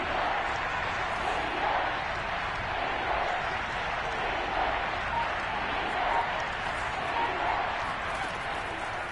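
Football stadium crowd roaring steadily ahead of a big third down, a dense, sustained wash of cheering and noise at even loudness throughout.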